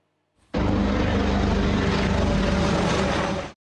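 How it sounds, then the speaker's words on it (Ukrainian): Aircraft engine and rotor noise from a French Super Puma helicopter in flight, a loud steady roar that starts abruptly, holds for about three seconds and then cuts off, with no voices. "Це французький гелікоптер «Супер Пума» борт 54."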